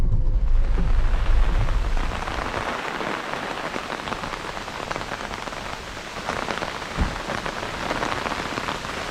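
Heavy rain pours steadily on a camper van in Nagasaki, Kyushu, a loud, dense, unbroken hiss with a brief low thump partway through and no talking.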